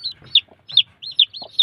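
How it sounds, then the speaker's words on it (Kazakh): Brooding hens hatching chicks give low, soft clucks close by, mixed with repeated high, thin peeps of newly hatched chicks in a quick, uneven rhythm. "Балапан шығарып жатыр тауықтар."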